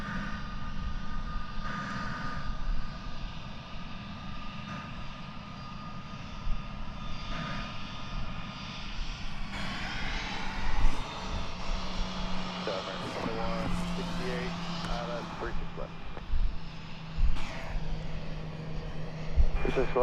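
An airliner departing DFW Airport for Chicago O'Hare rumbles with a low, sustained engine roar that swells in the second half, while radio voices talk over it.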